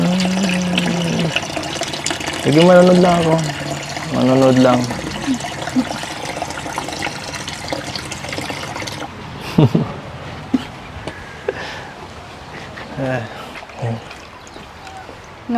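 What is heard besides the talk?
water being poured for a guest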